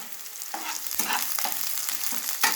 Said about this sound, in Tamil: இப்போ இதில் கொஞ்சம் கருவேப்பிலை போட்டுக்கலாம்